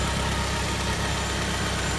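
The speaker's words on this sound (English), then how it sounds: "The engine would appear to be running all right" A VW Beetle in very poor condition idles with a steady, even engine rumble, close and constant, with no talk over it.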